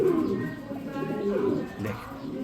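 Domestic Lahori pigeons coo close by in soft, repeated throaty phrases, with some faint background noise and no voices.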